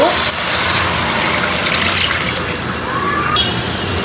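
Broth is poured into a pan of frying spices for hilsa fish curry, giving a loud, close rush of liquid and sizzle that holds steady for a few seconds.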